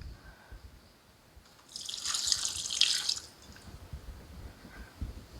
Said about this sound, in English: the next thing we're going to do is pour this over our ribs